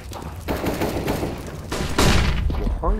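Rapid gunfire from Counter-Strike (CSGO), with the AWM sniper rifle among the weapons, cracking in a dense burst of loud overlapping shots that keeps going for about three seconds.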